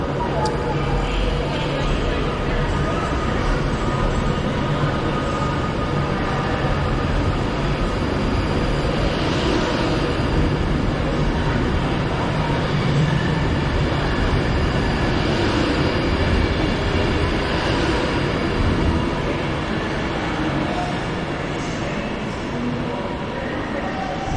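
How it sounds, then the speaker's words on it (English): An Avanti train departs Preston station bound for Blackpool North, a steady loud rumble of rolling wheels and engine that fills the platform and holds for the whole stretch, with voices talking over it. "Off goes the Avanti to Blackpool North"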